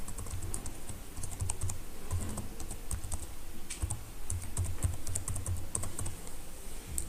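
Steady typing on a computer keyboard enters a chart name, a quick run of close keystrokes that continues without a break for several seconds.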